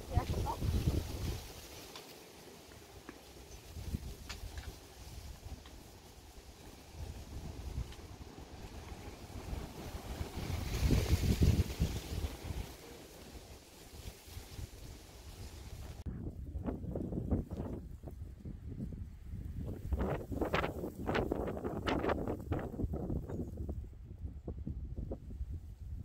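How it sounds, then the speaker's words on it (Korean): Strong mountain wind on the trail at Mudeungsan, a continuous roaring, buffeting rush battering the microphone in waves for the whole stretch, growing gustier and harsher toward the end. "바람소리가 엄청나죠?"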